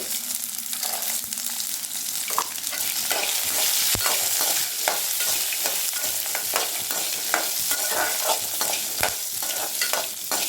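Shallots, garlic and lentils sauté in a pan for a Tamil pirandai thuvaiyal, a steady broadband sizzle with repeated scraping stirs and a sharp knock near four seconds, loud and close with no talking.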